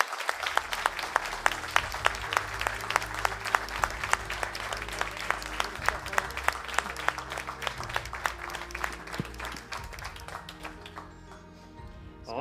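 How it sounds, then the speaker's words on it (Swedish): A room applauds at an award ceremony for an agricultural innovation competition, with many crisp, distinct claps in a lively, sustained burst that thins and fades out near the end. "Och en stor varm applåd"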